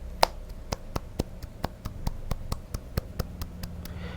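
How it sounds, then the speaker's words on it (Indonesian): Students in a high school biology classroom clap in a slow, regular rhythm, with sharp, evenly spaced claps that sound close and fairly quiet, like a single pair of hands or a few clapping in unison. "Tepuk tangan untuk kalian semua"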